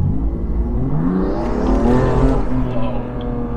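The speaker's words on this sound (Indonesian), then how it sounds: "Gue coba gas." A BMW M2 Competition, 636 hp, accelerates from a standstill in automatic drive mode, its engine note rising in a strong, steady roar heard from inside the car, loud and continuous with no talking.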